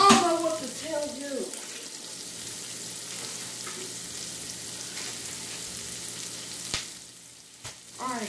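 Onions sizzle in a pan for a shrimp po'boy, a steady soft frying hiss that continues throughout, with a short burst of speech at the start.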